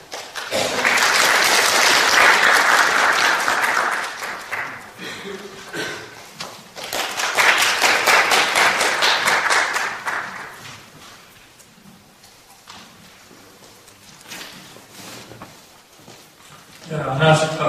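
An audience at a corporate quarterly earnings briefing claps to welcome the company's CEO and vice chairman, with two sustained rounds of applause separated by a quieter stretch and faint tapping.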